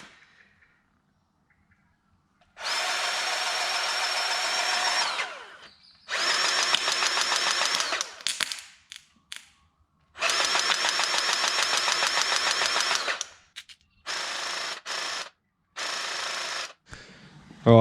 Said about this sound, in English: Look at that, grease gun, battery one.